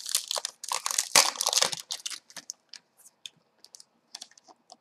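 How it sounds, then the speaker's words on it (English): Plastic protective film is peeled off a Kindle Fire tablet, a close burst of crinkling and crackling that thins into sparse, scattered ticks and rustles. "Gonna take the plastic off."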